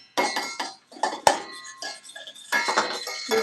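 A whisk stirring melted butter and flour in a pot gives close, rhythmic metallic clinks and scrapes in repeated bursts, with no talking over it.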